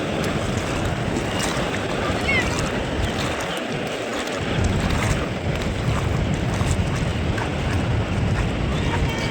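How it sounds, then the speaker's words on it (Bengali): Roaring sea waves with a constant rushing surf and wind buffeting the microphone, loud and enveloping throughout. "সমুদ্রের গর্জনটা শোনা"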